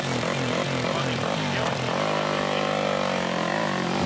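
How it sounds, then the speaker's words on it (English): A four-stroke Yamaha off-road motorcycle engine revs steadily during an off-road race, a loud continuous buzzing drone with shifting pitch that holds throughout. "Capita's just got his 4-stroke Yamaha going."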